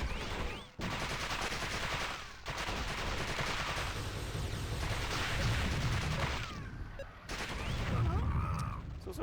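A gunship fires in the video game Warhammer 40,000: Fire Warrior, with dense, loud, sustained bursts of rapid gunfire and booming impacts that pause only briefly.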